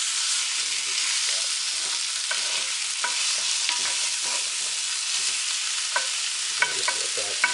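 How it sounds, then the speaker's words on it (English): Red snapper fries in a hot pan with a steady, loud sizzle, and faint pops and clicks scatter through it while nobody speaks. "Once we get a little bit of frying going with the fish,"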